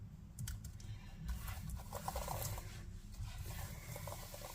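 Keys pressed on a 2012 MacBook Air keyboard, a close run of quick, light plastic clicks and taps in an uneven flurry, with no talking.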